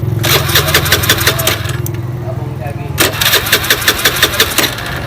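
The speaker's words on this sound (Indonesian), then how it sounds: "Coba kita hidupkan sekali lagi" A Honda Beat scooter engine with a faltering fuel injector cranks and starts with rapid pulsing bursts, drops off briefly, then catches again and runs with uneven pops, close and loud.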